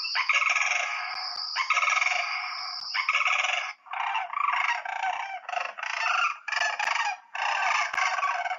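A common gallinule gives its rattle call in a wetland, a loud, close series of harsh, clucking bursts repeated in quick rhythmic runs with short pauses.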